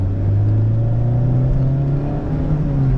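A Mazda Miata sports car drives with a steady, loud engine drone heard from inside, holding an even hum with slight pitch shifts throughout, no voices.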